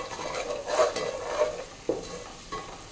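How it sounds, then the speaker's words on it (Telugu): Ground chilli powder being stirred into a vegetable biryani mixture in a pan, a few soft scraping strokes with light sizzling underneath, close and fairly quiet. "మిక్స్ చేద్దాం బాగా. ఇది ఒకసారి కలుపుకుందాం."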